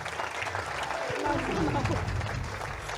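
Church congregation applauding and cheering at a worship service, a steady dense wash of clapping that swells slightly and holds throughout, with voices mixed in.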